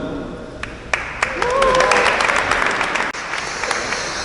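Audience applause builds into a steady wash of clapping, with a few sharp claps at the start before it fades down near the end.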